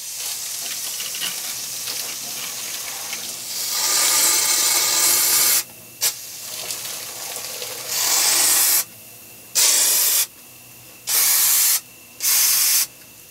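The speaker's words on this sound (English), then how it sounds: "So I'm going to spray the hell out of them and hope they don't fly at me." Insect spray is aimed at bug nests near a garden gnome, giving a loud, close, continuous hiss followed by four short, sharp bursts with brief gaps between them.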